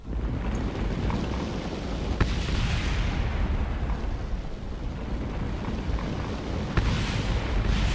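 Continuous roaring rumble of a spacecraft service module burning up and exploding on re-entry in Kerbal Space Program, with brief cracks punctuating the dense, steady blast noise.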